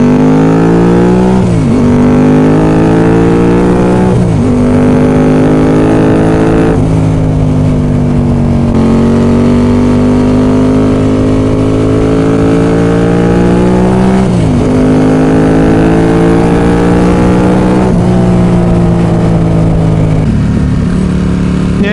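A Ducati 916 motorcycle engine roars loud and close while riding on damp roads on a cold day, its tone rising through gear changes and easing off between pulls, with heavy wind rush throughout.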